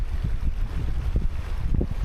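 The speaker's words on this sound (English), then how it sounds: "Just running water, man." Water runs and flows outdoors in a steady, close rushing wash with low gurgling swells and some wind buffeting the microphone, and no voices.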